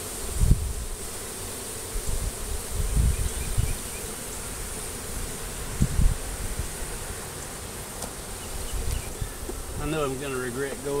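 Honeybees swarm around an opened hive late in the day, a steady close buzzing that fills the air throughout, with a few louder passes of single bees near the microphone.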